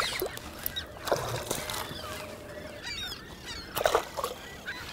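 Seagulls call around small rock islands on a lake while fishing, several squawks and cries at moderate distance, scattered over faint water and boat ambience.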